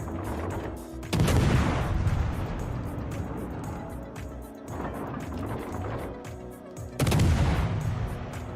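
Heavy warship guns boom in World of Warships Legends, a loud sustained roar of naval gunfire with two big salvos striking hard, separated by a stretch of rumbling, rolling battle noise.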